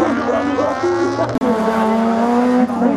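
A Citroën Saxo rally car at a slalom event, its engine howling loud and close with a sharp gear change midway, tires squealing, while a commentator talks over it.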